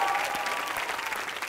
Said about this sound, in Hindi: तालियां for that.